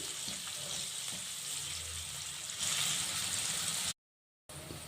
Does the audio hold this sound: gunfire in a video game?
no